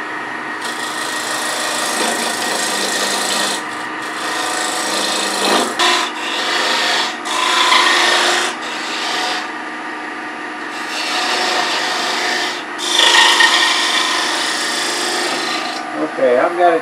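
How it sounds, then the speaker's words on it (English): A beading and parting tool cuts a square tenon on a wood bowl spinning on a lathe, making loud, sustained scraping and rasping in several long passes with brief pauses between them. "I think I'm going to use my beading and parting tool."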